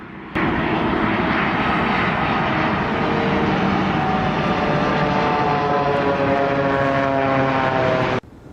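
A Boeing 787's deployed ram air turbine gives a loud, steady propeller-like drone with a constant tonal hum, continuous for several seconds and then cutting off abruptly, with no voices.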